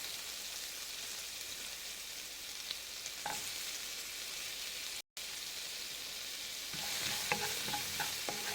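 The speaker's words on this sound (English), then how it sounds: "The onions are fried very well." Onions and green chilli frying in a pan with peanuts, a steady close sizzle with occasional stirring scrapes and clinks, no voices over it.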